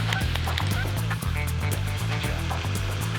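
Geese honk repeatedly in a noisy, overlapping chorus on a golf course as a working dog herds them, close and loud, with a steady low hum beneath.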